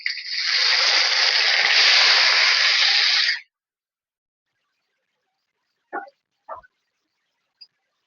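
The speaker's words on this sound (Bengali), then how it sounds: "এতে এবার পেঁয়াজ কুচি দিয়ে দেবো" Chopped onion hits hot oil seasoned with cinnamon, cloves, cardamom and cumin for a chicken do pyaza, giving a loud, close sizzling hiss for about three seconds before it cuts out, then a few faint utensil taps.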